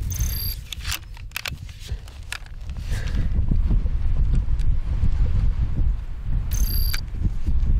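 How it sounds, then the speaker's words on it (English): Strong wind buffets the microphone outdoors on an open prairie during a hunt, a steady low roar with gusts rising in the second half, broken by a few sharp clicks and knocks near the start. "Try to get out of this wind."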